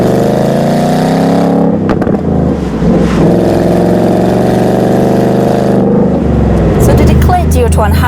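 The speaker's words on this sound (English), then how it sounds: "it is not the acceleration that is the best in this car. It is the sound that is so juicy" A Ford Mustang Bullitt V8 engine revs and pulls hard under acceleration, a loud, steady low roar filling the whole stretch, with a brief gear-change dip and people talking over it.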